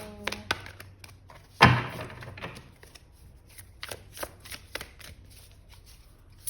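Tarot cards shuffled up close, opening with a sharp thunk as the deck is knocked, then a steady patter of riffling flicks and light taps, with no voices.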